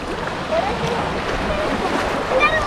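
Ocean waves wash onto a Massachusetts beach as a steady, noisy roar with wind buffeting the microphone. Faint voices mix in over the surf throughout.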